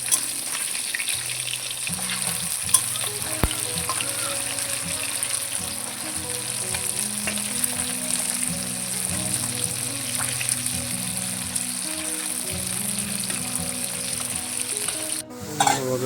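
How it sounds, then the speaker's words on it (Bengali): Snakehead fish frying in oil in a village kitchen as the second side cooks, a steady close sizzle running the whole time with a few clinks near the end and no speech. "আর এক পাশটা তুলতে দিচ্ছি"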